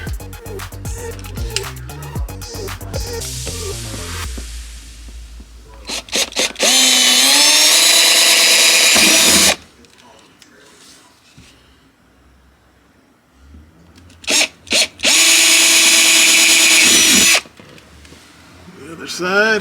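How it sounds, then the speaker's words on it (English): Two long, loud bursts of a power drill whirring steadily, drilling into a Jeep Wrangler for a roof rack, each preceded by short trigger blips, with quieter background noise and some low talk between. "Drill the initial hole, no turning back."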